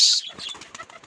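A brief burst of wing flaps as a pigeon takes off, followed by a few soft fluttering beats fading quickly.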